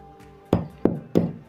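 Light taps from a small tool tip against the crystal of a satellite dish LNB, three sharp knocks spaced about a third of a second apart, close and fairly loud with no other sound.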